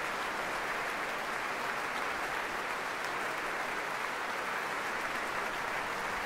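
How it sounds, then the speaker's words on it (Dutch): Steady, dense applause from a concert hall audience after a Tchaikovsky Symphony No. 5 performance by the Netherlands Philharmonic Orchestra, honouring the first horn player. It is even and continuous throughout, with no talking. "Met natuurlijk applaus voor eerste hornist Fokke van Heel"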